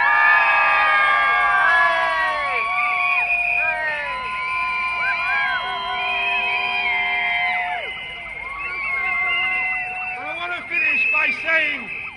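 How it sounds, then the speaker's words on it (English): A crowd at a London street demonstration against the Taiji dolphin slaughter cheers and whoops loudly across the whole stretch, with shouting voices rising and falling in a dense, sustained roar. "let's have a huge cheer for what's going on with Sea Shepherd as well."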